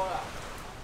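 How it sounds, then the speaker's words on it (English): Heavy rain falls at a plaza where a tent has been set up for cars to drive in, a soft, even hiss of rainfall at low level, steady across the short moment, with faint voice-like sound over it. "In the heavy rain"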